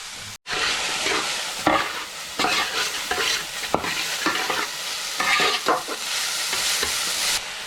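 Pork vindaloo masala sautés in a pan, with steady frying sizzle and repeated scraping stir strokes from a spoon, close and fairly loud throughout.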